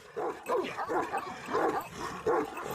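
A Kangal dog barks in a few deep, spaced bursts at moderate distance, fairly faint, with no talking.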